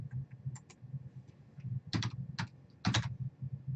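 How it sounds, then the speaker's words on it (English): Close keystrokes on a computer keyboard as router configuration commands are entered, quiet soft taps mixed with a few sharper clicks in irregular bursts over a low background hum. "Now this time I'm going to type up the command completely."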